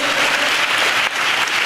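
Church congregation applauding during a pastor's sermon, dense loud clapping from a crowd, steady and close for a brief burst.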